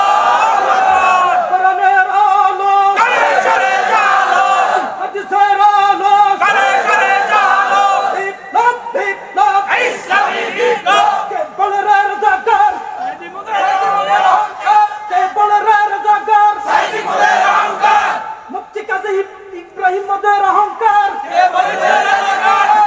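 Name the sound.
crowd chanting takbir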